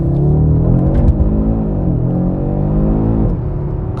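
A 2022 Audi RS3 Sportback Launch Edition performing a launch start, engine roaring loud and close with a rising rev, a brief dip at a gear change, then pulling hard again without any talk.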